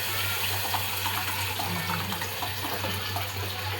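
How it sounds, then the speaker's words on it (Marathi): Water runs into a cooking pot of softened tomato for a curry, a steady close splashing stream with no talking. "जेवढं आपल्याला कालवण हवं आहे तेवढं आपण पाणी सोडूया."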